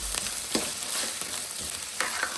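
Capsicum frying in oil in a pan, a continuous close sizzle with a few soft scrapes of stirring.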